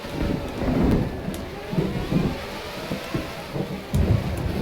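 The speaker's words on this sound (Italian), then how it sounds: "Monte Carlo con la pioggia." Heavy rain falls at Monte Carlo in the F1 Challenge racing game, a dense steady wash with low rumbles and swells throughout.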